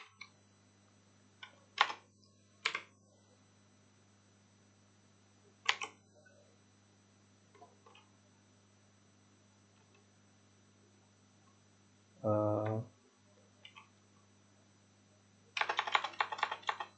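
PHP code being typed on a computer keyboard, heard as sparse isolated key clicks and a couple of short fast typing bursts over a low steady electrical hum, quiet and close, without speech.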